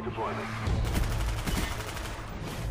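Rapid bursts from an MP5K submachine gun in Call of Duty: Black Ops, loud and dense, with shots rattling continuously throughout under game noise.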